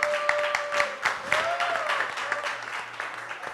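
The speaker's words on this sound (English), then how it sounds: "by the claps I gather that Kenwin is no stranger to us" An audience at a vocations conference panel discussion applauds a panelist, a dense steady patter of many hands clapping that continues throughout at moderate level, with a faint tonal whine underneath.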